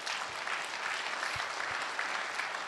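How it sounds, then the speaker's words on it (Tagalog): Steady applause from a church congregation during a sermon, dense and continuous throughout, with no voices standing out. "Tuloy po natin yung palakpak."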